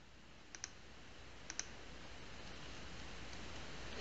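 Two quick pairs of mouse clicks, soft and close, over a faint steady room hiss, with no talking.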